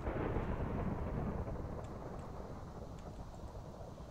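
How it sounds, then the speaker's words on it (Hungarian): A heavy thunderstorm in a video game, with a dense, steady roar of rain and rolling thunder rumbling continuously throughout, fairly loud and with no voices. "Ahogy hallom, egy kicsit nagy a vihar."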